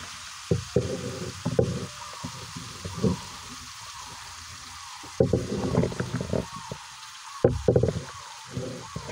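A spoon stirs tomatoes sautéing in a pan with chayote and squash, giving intermittent scraping clusters over a faint steady sizzle and separated by quiet gaps.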